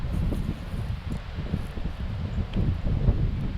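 Strong wind on a golf course during a two-person best-shot tournament, low buffeting gusts roaring against the microphone with rustling, continuous and rising toward the end.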